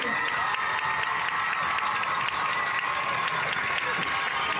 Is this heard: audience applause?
yes